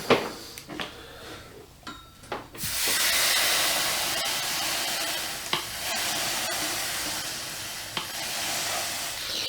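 A hot iron pressed onto a damp cloth over a dented wooden gun stock gives a sustained loud steam sizzle and hiss after a few soft clicks and taps, with occasional knocks as the iron shifts.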